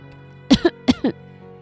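Two light, soft coughs close by, each a quick double burst, with quiet background hum and no talking.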